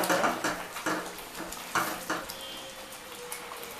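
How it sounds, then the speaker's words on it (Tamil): Ashoka halwa being stirred in a pan with ghee added bit by bit, a spoon scraping in repeated strokes over a soft sizzle, close and moderately loud with no voices. "கொஞ்சம் கொஞ்சமாக கீ ஆட் பண்ணி கிண்டிக்கிட்டே இருங்க."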